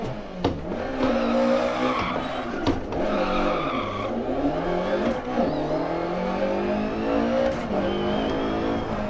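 A Lancia Evo 2 rally car on tarmac in DiRT Rally spins out, its engine revving and wavering while the tires squeal and skid loudly and continuously for several seconds, with no talk over it.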